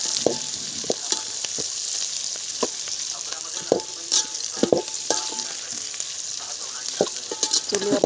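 Red chilli, onion and bay leaf fry in a pan over a wood-fired stove for chicken biryani, a steady close sizzle broken by sharp scrapes and clinks of stirring throughout.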